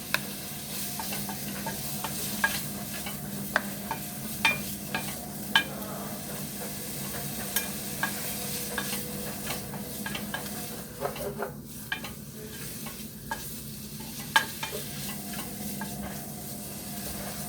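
Lardons sweating in a pan for a turkey roast dish with turnips and carrots, giving a steady low sizzle and hiss throughout, with faint scattered clicks and light pan contact, no talking.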